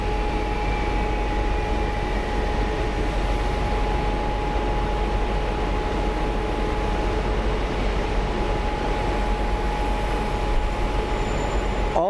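A FedEx Boeing 767 jet at Phoenix Sky Harbor airport, its engines a loud steady roar with a sustained whine, heard from outside without any pause.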